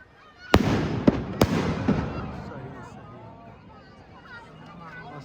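Firecrackers burst at a Gudi Padwa eve celebration by a temple in Dombivali, four or five sharp loud bangs in quick succession followed by fading crackle and echo, with people talking over the noise.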